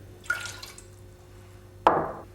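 White vinegar splashes into a cooking pot in two short pours, a brief trickle and then a fuller splash, close and clear in a quiet kitchen.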